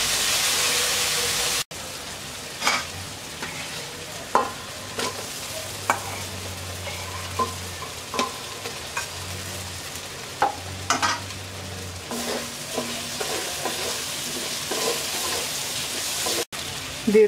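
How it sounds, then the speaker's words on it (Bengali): Spice paste for a potato-eggplant pabda fish curry fries in a pan, a steady close sizzle running throughout with occasional spoon clacks and stirring scrapes. "এবার মশলাটাকে কিছুক্ষণ কষিয়ে নেব।"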